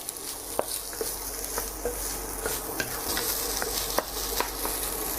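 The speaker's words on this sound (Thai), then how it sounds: "เมื่อเริ่มร้อนก็ใส่ไข่นะครับ1ฟอง ใส่ข้าวตามลงไปนะครับ160 กรัมนะครับ" Egg and rice stir-frying in a hot pan, a steady sizzle broken by regular scraping and tapping of the spatula against the pan, close and fairly loud throughout.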